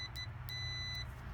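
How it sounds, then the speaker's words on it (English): A digital multimeter gives a continuity test beep on a refrigerator defrost sensor: short, faint, high electronic beeps in quick succession, including one longer sustained tone, over low background hum. "as soon as you put this one in, it should beep"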